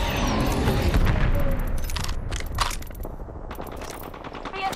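Rapid automatic gunfire in an Apex Legends match, dense bursts of shots and impacts crackling close by, booming at first and thinning slightly toward the end, with no talking over it.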